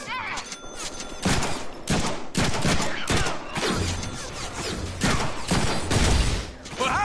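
Heavy gunfire in the Deadpool video game, with loud bursts of shots repeating in dense volleys across the whole stretch, close and forceful, along with game voices and battle noise.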